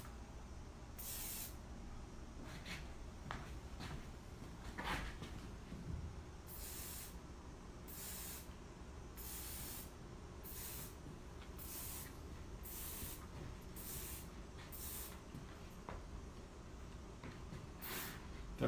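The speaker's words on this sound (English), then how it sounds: "I'm going to push it in a little with a comb and some hairspray." Hairspray hisses onto curly hair during a salon cut, around ten short, fairly quiet spray bursts spread unevenly across a low room hum.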